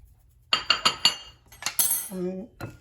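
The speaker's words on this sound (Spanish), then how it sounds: "vamos a mezclar el pan rallado, el queso, la sal y la páprica" Breadcrumbs, cheese, salt and paprika mixed with utensils in a dish, giving a quick run of four sharp metallic clinks followed by scraping and clattering, loud and close with no talk.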